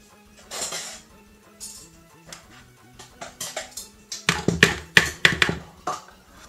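A spoon scrapes sticky shortening out of a measuring cup, soft squelching scoops building into a quick run of sharp clinks and taps against the cup, close by and with nobody talking.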